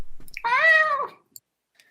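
A cat gives one clear, close meow of about a second, rising and falling in pitch, amid the quiet sound design of a high school club's old-time radio drama.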